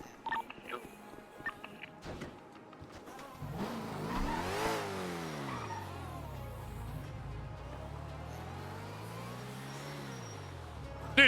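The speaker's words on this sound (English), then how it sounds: "how does a car sound like it's driving up to the top of the fucking garage and disappear?" A car revs and accelerates inside a parking garage in the game GTA RP on the NoPixel server, the engine rising and falling through gear-like sweeps, fairly close, after scattered faint clicks and beeps.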